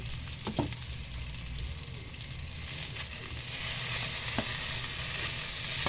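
Sitaw string beans frying in a pan, steady close hiss and crackle that swells slightly louder toward the end, with a few faint utensil taps.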